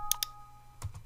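A couple of quick, light computer mouse clicks close to the microphone, followed by fainter clicks a moment later over a low electrical hum.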